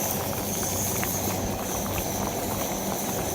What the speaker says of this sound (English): We'll get a rolling boil on this.